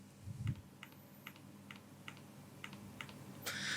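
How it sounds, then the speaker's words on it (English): Trackpad of a Razer Blade 15 2020 laptop being pressed, giving a series of soft, quiet clicks spaced about half a second apart, close up in a still room. "This is a trackpad click."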